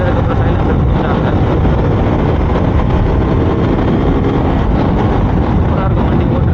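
KTM RC 200 BS4 motorcycle engine running, a loud, steady, dense rumble held close and continuous throughout.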